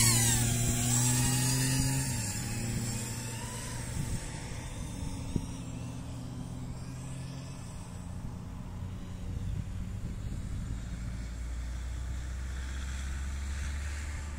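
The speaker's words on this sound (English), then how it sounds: "you can hear it's sort of high-pitched 3-inch prop noise" A small quadcopter drone's 3-inch propellers whine and buzz continuously in flight, high-pitched, the pitch rising and dipping as it maneuvers, with no talking.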